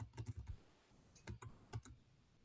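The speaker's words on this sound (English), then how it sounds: "I hear you typing" Quick bursts of computer keyboard typing, clattering keystrokes in two or three short clusters separated by pauses, close and fairly quiet in an otherwise still room.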